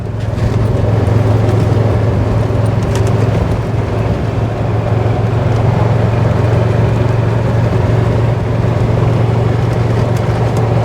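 A golf cart rolling along a cart lane beside executive golf courses near Okeechobee, giving a steady, close motor and road hum with constant wind rumble throughout, no voices.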